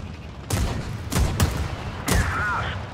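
Tank cannons fire in the video game World of Tanks: four sharp, heavy booms land in quick, irregular succession, each leaving a short rumbling tail.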